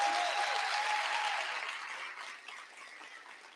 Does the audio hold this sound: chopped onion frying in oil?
no